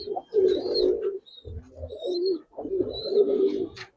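Giribaz Bagha pigeons coo in a market collection, giving repeated low, throaty rolling phrases in three bursts separated by short gaps, close and clear, with faint higher chirps above.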